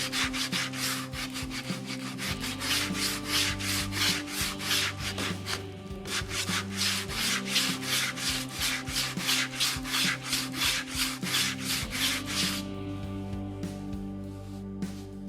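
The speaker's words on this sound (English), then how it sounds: "we're going to be using the block sander to level everything out and remove those scratch marks" A block sander is drawn back and forth over a wooden Telecaster-style guitar body, making rhythmic rasping strokes, close and clear, in a steady fast cadence that slows and stops near the end.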